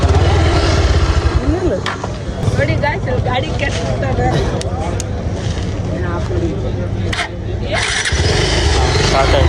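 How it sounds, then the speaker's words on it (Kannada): A motorbike engine starts and settles into a loud, throaty idle nearby, with voices talking over the rumble. "ಬೈಕು ರೋಷನ್ ಬ್ರೋದು."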